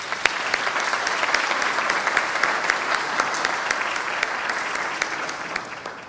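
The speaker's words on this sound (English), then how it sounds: "please join me again in one last round of applause for our city staff" A crowd applauds city staff at an annual State of the City event in Fair Oaks Ranch, steady dense clapping that holds evenly throughout with a few sharper individual claps standing out.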